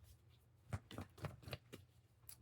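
A deck of cards is shuffled in quick successive riffles, about five crisp fluttering bursts close by and quiet, with no talking.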